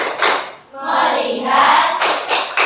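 A classroom of students claps a rhythm pattern together, with bursts of hand claps forming a pattern over a little less than three seconds and a short pause in the middle.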